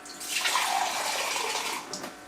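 About two cups of water are poured into a pot for soursop leaf tea, giving a brief, full splashing rush that swells and then tapers off over about two seconds.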